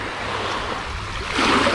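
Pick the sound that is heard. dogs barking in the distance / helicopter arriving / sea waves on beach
sea waves on beach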